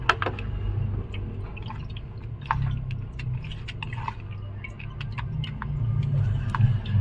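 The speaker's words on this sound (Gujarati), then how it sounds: "આપણે થોડુંક પાણી એડ કરી અને વ્યવસ્થિત ધોઈ લેવાના છે" Poha (flattened rice) is washed by hand in water, making soft, irregular squishes and drips at close range over a low background hum.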